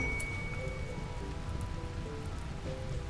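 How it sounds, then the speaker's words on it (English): Steady rain patters across the ground in the Rimworld video game, a continuous even hiss with scattered droplet ticks and no voices. "it's a good thing it's raining, because this fire is not going to spread because of it"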